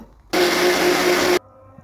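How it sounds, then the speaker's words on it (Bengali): A kitchen blender roars at full power for about a second, a loud, steady, high-pitched whir that starts and stops abruptly against a quiet room. "তো আমি এখন ব্লেন্ডারটা স্টার্ট দিব।"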